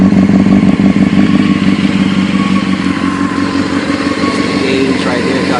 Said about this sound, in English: I'm gonna go ahead and rev it up real quick. Let y'all hear it. Yeah, real low grumbly.